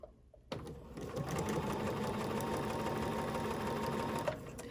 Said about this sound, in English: all I'm going to do is stitch forward, then backwards, right on that drawn line